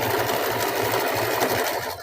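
A sewing machine stitches fabric over elastic at the waistband of a pair of pants, a loud, close, steady mechanical whirring with a rapid needle rhythm that slows near the end.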